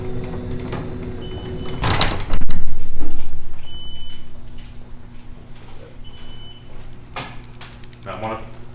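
A garage door opener kicks in with a loud mechanical burst and then settles into a steady low motor hum. A couple of faint short beeps sound, and someone talks at times.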